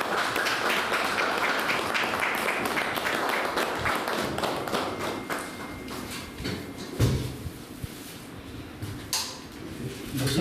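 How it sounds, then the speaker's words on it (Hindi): Audience applause for an honored chief guest at an award ceremony, a continuous fairly faint patter of many hands that thins toward the end. "तो तालियां जोरदार होनी चाहिए।"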